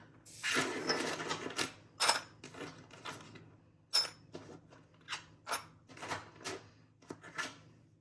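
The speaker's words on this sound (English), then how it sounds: "So yeah, a whole thing of keys." A bunch of old metal keys is handled and jostled, giving a series of bright jangling clinks and rattles in uneven bursts, close by with no talk.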